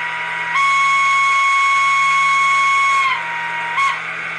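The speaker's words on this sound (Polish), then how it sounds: "Bardziej przypomina to dźwięk z lokomotywy parowej niż z elektrycznej." A TRIX Ee 3/3 model electric shunting locomotive's sound decoder gives a loud, steady steam-locomotive-like whistle tone, holding for about two and a half seconds before cutting off, then a brief second blast follows.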